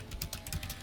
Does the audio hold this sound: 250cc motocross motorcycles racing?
no